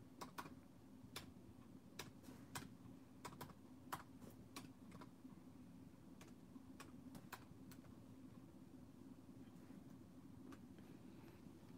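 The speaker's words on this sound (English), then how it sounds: "here, let me type it." Quiet computer keyboard typing, a scatter of irregular clicks in bursts over a low steady background hum, faint and fairly close.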